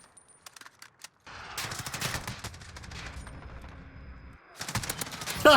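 AR15 assault rifle fire in a modern warfare video game, with a few scattered shots and then sustained rapid automatic bursts at moderate level, no talking.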